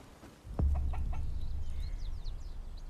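Chicken in the video game Bellwright clucking and squawking: a sharp close squawk followed by a run of rapid clucks, then softer fading chirpy calls, with no talking.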